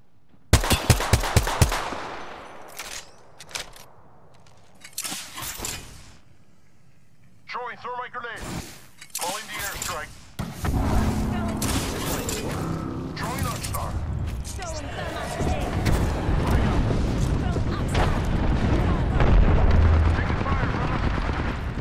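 Gunfire and explosions in the Apex Legends battle royale game: a rapid burst of sharp shots opens, then scattered blasts give way to a dense, loud, continuous roar of combat, with a voice talking over it.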